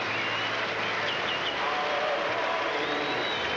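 A stadium crowd of some 40,000 at Shea Stadium roars steadily in the background of a 1985 Pittsburgh at New York Mets baseball game, a dense continuous wash of noise with faint whistles rising above it.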